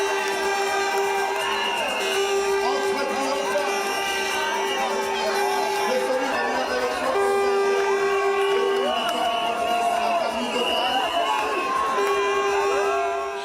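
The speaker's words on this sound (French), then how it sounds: "L'arrivée en toute pompe de celui qu'on a baptisé le candidat spécial est un moment véritable d'euphorie. La foule est en extase." A crowd greets a presidential candidate's arrival at a movement's headquarters in Okala, cheering and shouting in euphoria, loud and sustained, with whistles or horn-like tones sounding through the din and a voice speaking over it.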